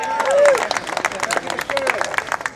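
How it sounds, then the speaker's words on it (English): An outdoor protest crowd against British immigration policy gives a short round of applause, a dense patter of many hands with a voice calling out over it. "give a round of applause"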